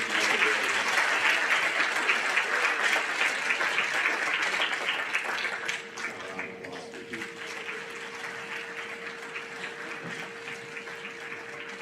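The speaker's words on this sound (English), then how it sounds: "Another round of applause for you." Audience applause at an eighth-grade awards ceremony rings out loudly for several seconds, then tapers into lighter, scattered clapping under a steady tone.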